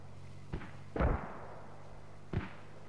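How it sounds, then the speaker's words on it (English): Mortar fire in the video game Squad: three dull booming thumps, a short one, then a heavier, longer blast, then another after a pause, each standing out over a low steady background hum. "Oh, another set of mortars here."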